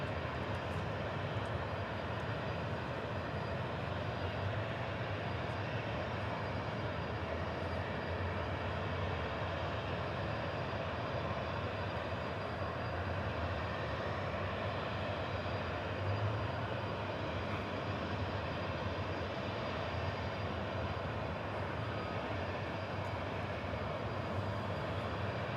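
Boeing 747 taxiing at Dallas/Fort Worth airport, a constant low jet engine drone heard at moderate distance, steady and unbroken throughout with no speech.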